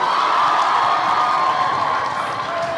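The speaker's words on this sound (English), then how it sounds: "Clap for yourself." An audience at a Nigerian comedy show cheers and shouts in a loud, steady roar throughout, with scattered clapping blended into the crowd noise.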